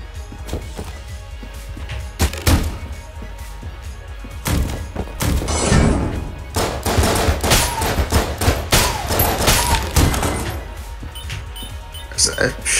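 Gunfire in the roguelike shooter Enter the Gungeon: repeated sharp shots, clustered bursts and impacts, loud and near, with people talking over the action.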